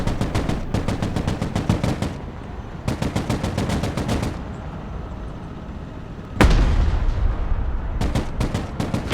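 Heavy weapons fire in the Broken Arrow war game around an Abrams tank: rapid machine-gun bursts in several loud volleys, broken by a single booming cannon blast near the middle, then more bursts.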